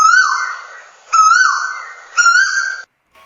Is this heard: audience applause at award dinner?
no